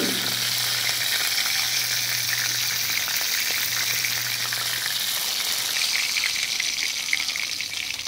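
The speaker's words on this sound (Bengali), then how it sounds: "বাকি মাছগুলো সেমভাবেই ভেজে নেব।" Sea fish sizzles and crackles steadily in hot mustard oil, a close, continuous frying hiss with small pops and no talking.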